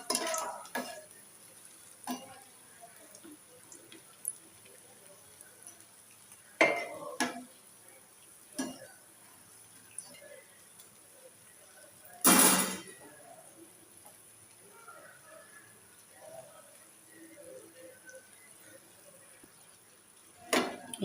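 Green chilli bajji fry in oil in a pan and are turned now and then, giving sparse utensil taps and clinks with one sharp, louder scrape midway over a faint, low background of frying.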